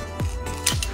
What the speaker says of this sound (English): I'm just gonna cut like a little slit